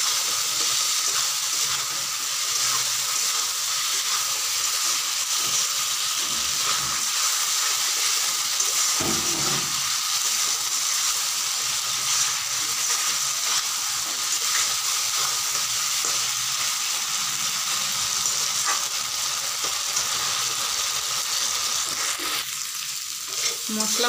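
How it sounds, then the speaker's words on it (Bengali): Spices with red chilli powder fry and get stirred for a Bengali bata fish curry with potato, a steady close sizzle running throughout with occasional scrapes, no voices. "ভালো করে মশলাগুলোকে মিশিয়ে কষিয়ে নিব।"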